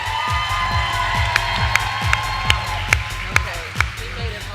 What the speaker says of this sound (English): Another round of applause for Sean Smith